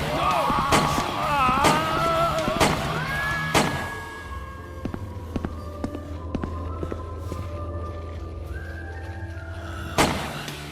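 Gunshots ring out in the video game Yesterday, several sharp cracks and thuds scattered across the moment, the loudest ones early, over game music and a sustained tone.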